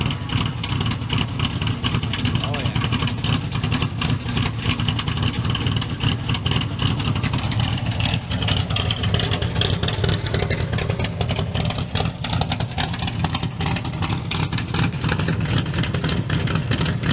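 Dodge A100 van engine revving through its exhaust, a loud, continuous rumbling roar that swells and eases over a long stretch, heard close up with no talk over it.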